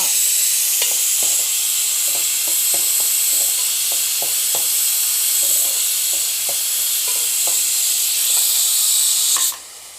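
Onions with salt frying in hot oil for chicken curry, a loud continuous sizzle with scattered stirring clicks, cutting off abruptly at the end.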